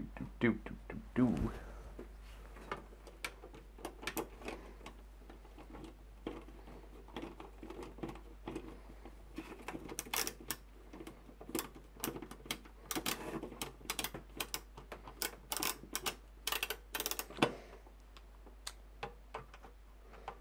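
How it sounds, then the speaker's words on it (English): Screws driven into an ITX gaming PC case, heard as dense, quick metallic ticks and small clicks, near and fairly faint, over a low steady hum. "So just gonna screw this in."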